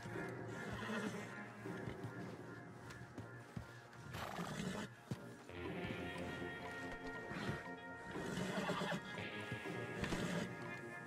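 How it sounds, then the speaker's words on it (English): Horses whinnying with clip-clopping hooves in Red Dead Redemption 2 during a horse theft, several loud neighs over game ambience, accompanied by in-game character dialogue. "And now we'll steal the horses."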